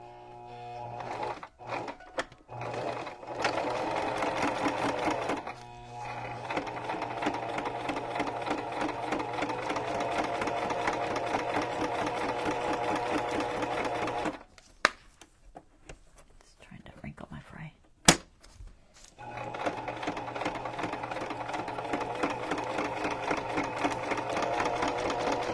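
Sewing machine stitching a junk journal cover, a steady close mechanical whir running with brief pauses and a longer quiet gap, with soft talking in the background.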